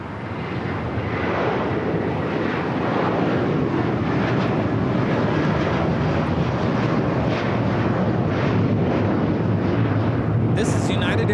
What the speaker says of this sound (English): This is United Airlines 1224 taking off to Honolulu on the 757-300.